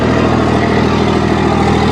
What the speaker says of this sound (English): I think it's aftermarket exhaust, guys. Probably straight pipe.